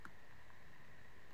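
A single crisp computer mouse click near the end of an otherwise quiet stretch, sharp and close.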